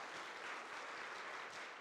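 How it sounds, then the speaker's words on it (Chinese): Applause from a church congregation during a Sunday service welcoming a member, a brief, soft, steady patter of many hands clapping at a distance. "拍手他，欢迎他"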